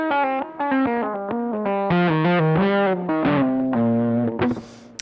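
A heavily distorted electric guitar plays a quick legato run of sustained notes and slides, ending with a brief noisy scrape.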